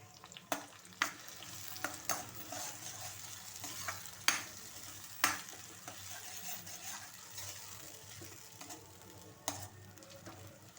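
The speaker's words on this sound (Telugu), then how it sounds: "తిప్పుకుందాము." Capsicum and sweet corn curry puree sizzles and fries in a pan while a spoon stirs it, with soft scrapes and knocks at irregular intervals over a continuous quiet sizzle.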